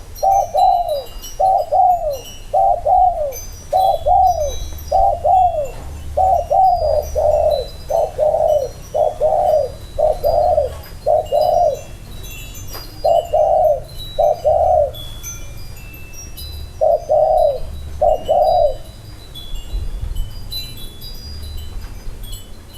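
Spotted doves coo in a close, clear series of rhythmic phrases repeating for about twenty seconds with short gaps, over faint background noise and no talking.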